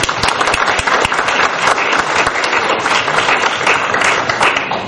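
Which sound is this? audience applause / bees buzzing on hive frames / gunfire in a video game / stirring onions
audience applause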